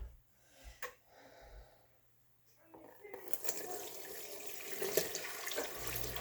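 Homemade chicken broth pours through a strainer and splashes into a bowl, a steady watery rush that builds after some quiet handling sounds and soft breaths.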